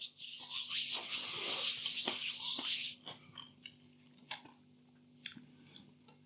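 Close, loud crunching of M&S mature cheddar and spring onion hand-cooked crisps made by Kettle, with steady chewing for about three seconds, then fainter intermittent crunches and mouth sounds.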